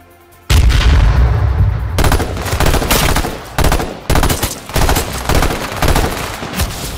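Continuous loud gunfire in the video game H1Z1 on PS4, sharp rapid shots with some heavy booming reports from a sniper in the fight, close and dense with brief gaps.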